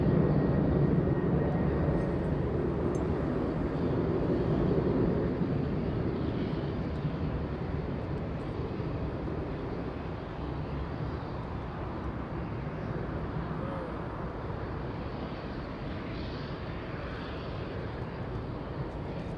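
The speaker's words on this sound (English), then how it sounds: "FedEx 1234 flying to Memphis, Tennessee, an MD-11. Lifting off sadly, going straight into the clouds." A FedEx MD-11 airliner departing Los Angeles International Airport toward Memphis gives a heavy, sustained engine roar, strongest at first and then easing slightly as it climbs away into cloud.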